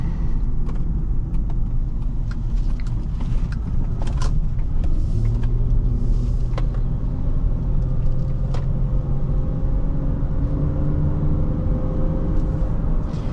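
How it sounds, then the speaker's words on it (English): A 2005 Honda Pilot EX-L SUV cruising a back road, with steady low engine and road rumble and tyre noise held at an even, loud level throughout, no talk. "let's do some backroad driving now"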